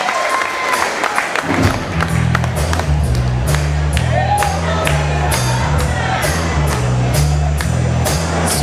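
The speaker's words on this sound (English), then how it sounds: "I wanna give him a round of applause" A crowd at a tribute band concert at an Oktoberfest in Pomona applauds, whoops and cheers, layered over a pulsing bass line played on stage, loud and lively with voices mixed in.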